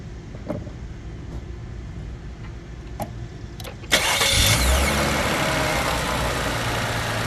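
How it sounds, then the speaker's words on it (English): A Cadillac CTS engine cranks and fires up midway, then settles into a steady, fairly loud idle that continues to the end, after some quieter handling clicks before the start. "Next is start the car."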